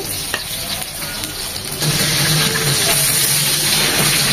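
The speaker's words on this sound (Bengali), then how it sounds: "এই স্টেজে 4টা শুকনো মরিচ দিয়ে দিচ্ছি।" Dried red chilies hit hot oil alongside frying hilsa fish, giving a steady crackling sizzle that grows louder and denser about halfway through and keeps going without talk.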